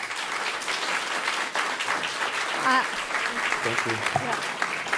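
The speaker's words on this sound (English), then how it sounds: "Keep the round of applause going." Audience applause for a chef at a culinary event, sustained crowd clapping throughout with someone briefly speaking over it.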